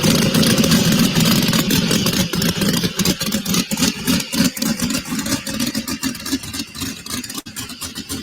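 An old pulling tractor on a new chassis idles loudly nearby, a rough, steady engine drone with uneven chugging pulses that grow choppier toward the end.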